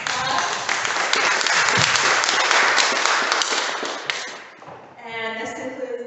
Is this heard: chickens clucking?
no